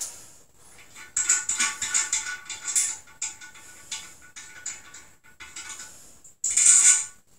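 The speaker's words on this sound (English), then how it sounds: "I'm just going to unscrew these plastic nuts and take the washer" Plastic nuts and washers being unscrewed from a toilet tank during a new toilet installation: close, scratchy plastic clicks and rattling in irregular bursts, with a sharper clatter near the end and no talking.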